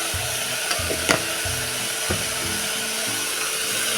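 Fresh flat-bean curry being stirred in a pan just after salt goes in: a steady soft sizzle with scraping, clinking stirs and a couple of sharper knocks against the pan, close and alone.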